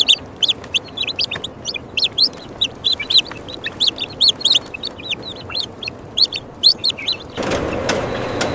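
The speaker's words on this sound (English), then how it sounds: "we will go to a turkey farm in Minnesota to see how hundreds of turkeys here are raised" Turkeys on a Minnesota turkey farm, raised in the hundreds: a steady run of high, short peeping calls over a low murmur, ending in a louder burst of rushing noise.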